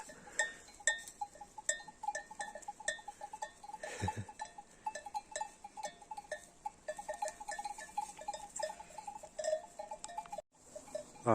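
Many small sheep bells clank and tinkle continuously in an irregular, overlapping jangle, moderately close, with no talking.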